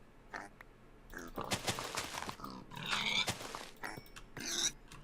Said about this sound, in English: Pigs.